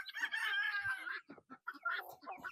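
Chickens on a farm clucking and crowing up close, a rooster-like call stretching through the first second, followed by a series of short clucks and squawks from the flock.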